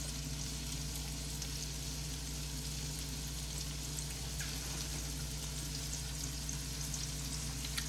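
Shrimp frying in a pan, a steady dense sizzle and crackle that holds evenly throughout, close and moderately loud, with no talking.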